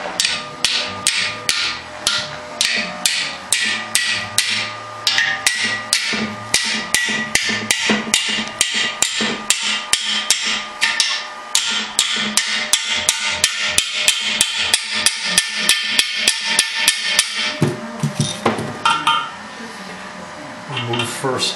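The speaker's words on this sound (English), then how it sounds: "And we're going to use the hammers now." Hammers strike swaging tools to re-tube a Rolls-Royce Phantom 1 cylinder block, producing loud, rapid, sharp metallic blows in steady bursts with brief pauses, close and ringing.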